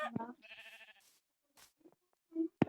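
A sheep gives one short wavering bleat at close range, framed by brief bursts of human voice before and after it.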